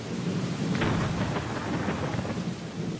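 Steady heavy rainfall mixes with a deep rolling rumble of thunder during a storm, a dense, continuous wash of sound with no voices.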